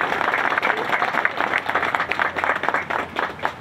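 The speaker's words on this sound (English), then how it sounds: "let's have an enthusiastic round of applause for the quintet provided by the 2nd Marine" Audience applause at a Marine Corps memorial groundbreaking ceremony, honoring a quintet from the 2nd Marine Aircraft Wing Band: steady, dense clapping from a sizable crowd, sustained at even volume throughout without any speech over it.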